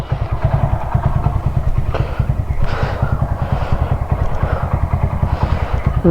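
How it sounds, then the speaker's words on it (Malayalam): A 2005-model motorcycle runs on its original silencer, giving a loud, steady, close exhaust thump at a fast even beat, with a slight rise in revs partway through. "ഇതാണ് നമ്മുടെ ഒറിജിനൽ ഇതുപോലെ സൈലൻസർ ഓക്കെ ഒറിജിനൽ സൈലൻസർ ഇതാ"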